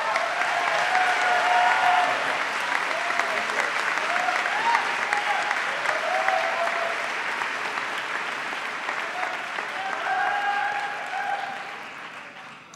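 Audience at Dartmouth's 2010 convocation applauding to welcome a speaker, sustained dense clapping filling a large hall for about twelve seconds before tapering off.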